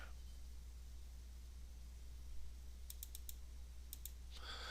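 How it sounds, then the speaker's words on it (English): Computer mouse clicks sound faintly over a quiet room hiss, several quick sharp clicks arriving in short clusters and pairs, including double-clicks, near the end. "So I'm double clicking on it to open it."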